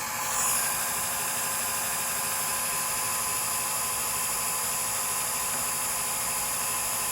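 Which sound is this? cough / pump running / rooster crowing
pump running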